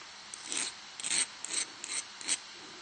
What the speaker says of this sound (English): I'm doing with the file to round it like that